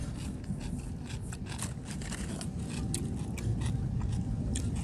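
Close, steady chewing of thick, long pieces of grilled squid marinated with chili salt and honey, with soft wet mastication and crunchy bites repeating throughout and no talking.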